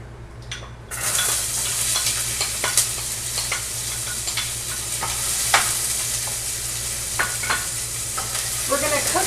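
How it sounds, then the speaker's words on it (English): Finely chopped red onion frying in oil in a hot pan, a loud, steady sizzle close by, dotted with sharp crackles and pops throughout, with no talking. "We're going to cook the onion until it is nicely browned and has sweated out a little bit in the pan."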